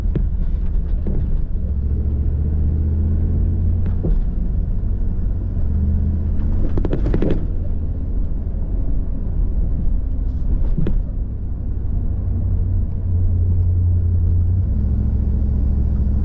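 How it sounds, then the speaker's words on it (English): A 2023 Ford F600 snow plow truck drives along while salting, its engine giving a steady low rumble and throb heard from inside the cab, with a few brief clunks and rattles along the way. "This F600 runs so nice."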